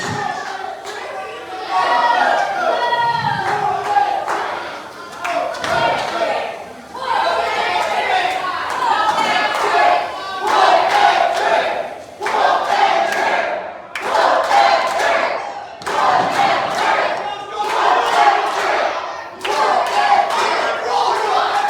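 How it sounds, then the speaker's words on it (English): Wrestling crowd at a T.I.W.F. Tuesday Night Rush show chanting in unison, a loud, dense roar of many voices rising and falling in rhythmic bursts with scattered claps and thumps throughout. "This crowd chanting, "Whoop that trick.""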